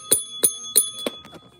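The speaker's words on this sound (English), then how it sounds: "Oh, I love this bell." A small bell dings four times in quick, even succession, bright and close, followed by a faint fading rattle.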